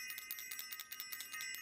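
A small bell rings repeatedly during a live call-in show, bright metallic tings in a quick, uneven rhythm, fairly faint and alone.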